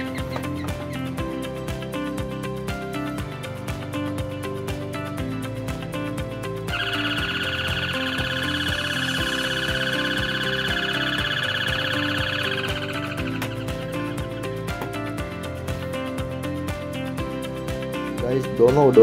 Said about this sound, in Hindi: अब बुलबुल डोरबेल का साउंड सुनते हैं।